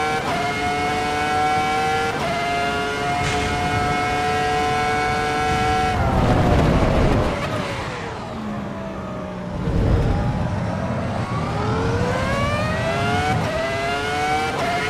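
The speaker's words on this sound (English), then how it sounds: "And you hear that weird noise when I'm accelerating? That's the traction control." V10 race car in the Assetto Corsa Evo racing game accelerating with a stuttering, buzzing traction control noise over a rising engine whine, with gear shifts and a brief lull before it revs again.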